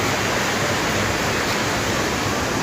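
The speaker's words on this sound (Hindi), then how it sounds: "ये है यहाँ पे कोई नदी खतरनाक सी वाली," A fast, dangerous mountain river near Badrinath rushes beneath a bridge, a loud unbroken roar of churning water that fills the whole moment with no voices.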